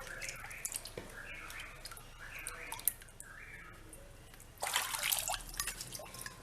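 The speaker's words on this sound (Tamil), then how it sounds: "நீங்கள் இப்படி தண்ணியை ஊற்றி இப்படி தேய்ச்சி பார்த்தீங்கன்னாவே தெரியும்" Water is poured onto a clay pot and rubbed by hand, giving soft drips and trickles, then a louder splashing pour near the end, quiet and close.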